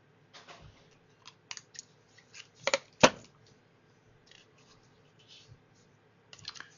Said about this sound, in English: I want to cut this little edge off right here